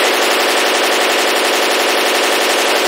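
Rapid automatic gunfire in the zombie shooter game Left 4 Dead 2, a loud, continuous burst of fast shots filling the whole clip without pause and with no voices.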